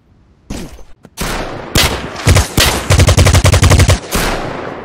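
Gunfire in the blockchain FPS video game Fabwelt's Arsenal: loud, close single shots, then rapid automatic bursts building into a fast rattling volley, with no talking.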